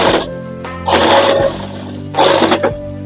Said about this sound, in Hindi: 1/2 इंच का मार्जिन रखते हुए अब हम पूरे इस पे डबल सिलाई लगा देंगे।